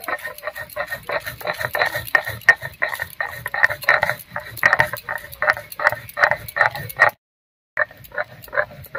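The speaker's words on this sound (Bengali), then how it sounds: "আমি ভাজা মশলাটা গুঁড়ো করে নিচ্ছি" Roasted spices being ground by hand, a quick rhythmic run of scraping, knocking strokes that repeats steadily and close by, breaking off for a short pause near the end before starting again.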